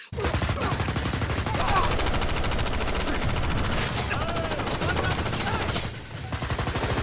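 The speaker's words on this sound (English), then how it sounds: "Everyone's shooting their guns and there's so much CGI gun blast going on." Dense CGI gunfire from an action scene in the film Jiu Jitsu rattles almost without pause, a loud, steady barrage of overlapping shots that briefly thins near the end before resuming.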